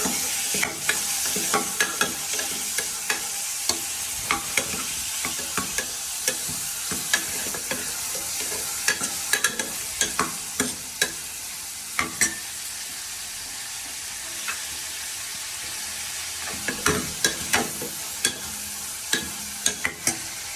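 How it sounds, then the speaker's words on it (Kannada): Palak dal ingredients, tomatoes and spinach, sizzle in a hot pan as a spoon stirs and clicks against the metal in frequent quick taps, continuous and fairly close. "ನಾನು ಇಲ್ಲಿ ಸ್ವಲ್ಪ ಫ್ರೈ ಮಾಡಾಕೋಣ ಅಂತ ಫ್ರೈ ಮಾಡ್ತೀನಿ."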